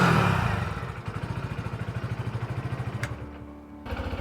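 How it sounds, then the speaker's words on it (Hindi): Bajaj Platina 100 commuter motorcycle engine running close by, a steady rapid thudding exhaust pulse with slight throttle swells, loud and alone without talk. "इस बाइक के इंजन का साउंड सुनिए।"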